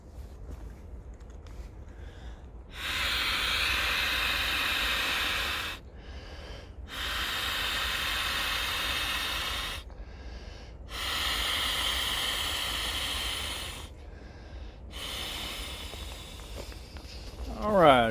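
Three long, strong breaths blown into the air valve of a big inflatable camping pad, each a loud airy rush several seconds long, with quiet pauses between them and a short partial breath near the end.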